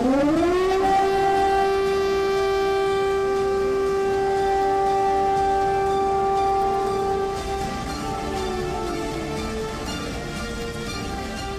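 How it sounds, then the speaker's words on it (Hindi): An air raid siren in a Ukrainian city during wartime rises to a loud, steady wailing tone that holds for several seconds before wavering and fading slightly, with a soft hiss of background noise. "यूक्रेन के लगभग 11 शहरों में हवाई हमले के सायरन बज रहे हैं"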